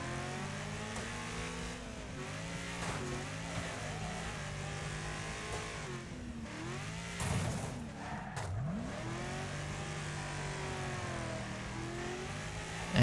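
A car engine in a racing video game drones and revs continuously, its pitch sweeping up and down through gear changes, with a brief harsh burst midway like a skid or impact.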